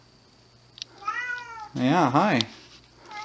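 A pet cat meows several times, two drawn-out cries close to the microphone, the second louder and wavering, with a person speaking briefly between them.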